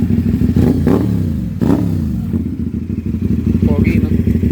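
Kawasaki Ninja 400 motorcycle with a 270-degree crank revving at Vermosa among other big bikes, with loud throttle blips rising and falling over a steady idle rumble, close by, while people talk over it.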